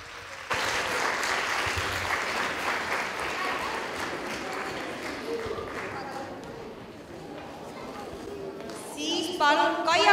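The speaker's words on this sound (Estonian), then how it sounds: "Palume siia Lii Ipsberg ja palume talle ühe suure aplausi." Audience applause fills a children's pop song contest hall, a steady dense wash of clapping from a sizable crowd that starts abruptly and holds loud throughout, with a brief musical sting near the end.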